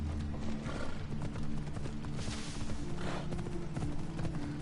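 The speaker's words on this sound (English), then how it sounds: "See if my horse can show up on this island." A horse gallops steadily through Assassin's Creed Odyssey, a continuous rhythmic clatter of hooves with a few whinnies, close and fairly loud over a constant low game soundscape, with no talk.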